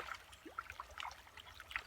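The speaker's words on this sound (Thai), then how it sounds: "ให้น้ำไหลไปนะไปทาง" Water trickling and flowing at a backyard fish pond, a soft, steady, close dribble with small splashy bursts throughout.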